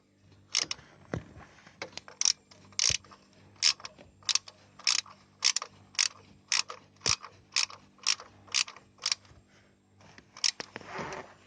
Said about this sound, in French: à l'aide de ce cliquet, je vais serrer les deux écrous qui se trouvent à l'extrémité du support de la pièce